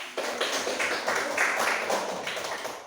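Students in a classroom clap for a classmate about to present, a continuous close burst of many hands applauding at an even level with no talk over it.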